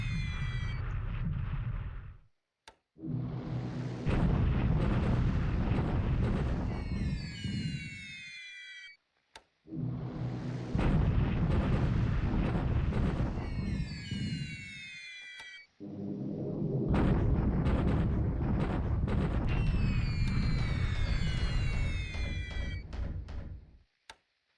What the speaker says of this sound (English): Dilly is getting bombarded by destroyers